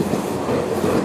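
A Tokyo line commuter train rolls past at an elevated remote station with a steady, close rumble and a rhythmic clickety-clack of wheels over rail joints, loud and continuous throughout.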